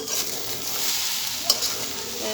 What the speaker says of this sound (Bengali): কাঁচামরিচ দিয়ে এখন আবার নেড়ে চেড়ে দেবো